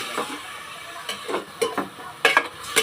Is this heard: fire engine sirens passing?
no